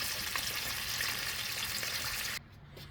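Ribs marinated in dried fish and calamansi fry in a pan, a dense, steady close-up sizzle and crackle that stops abruptly near the end, leaving a quieter room.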